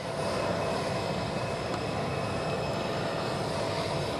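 A presidential jet's engines drone on an airport apron at West Palm Beach, Florida, as a loud, steady roar that fills the whole stretch without pause or speech.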